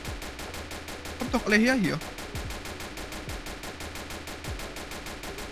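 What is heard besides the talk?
gunfire in a video game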